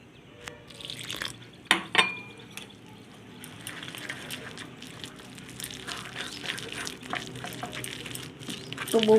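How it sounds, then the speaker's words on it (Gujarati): Water poured a little at a time into a bowl of batter for green garlic pudla with oil, a soft, steady trickle and splash with a few clinks of utensils near the start and a louder splash at the end. "હવે થોડું થોડું પાણી નાખીને આપણે આનું બેટર બનાવી લેવું।"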